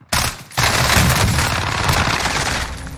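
Loud, close rapid-fire gunshots in the video game Warzone, a short burst followed by a sustained stream of automatic fire, with no talking.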